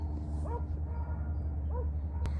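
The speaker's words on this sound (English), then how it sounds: "There's a dog." A dog gives a few short distant yips or whimpering barks outdoors on a sunny morning walk in nature, faint against a steady low background hum.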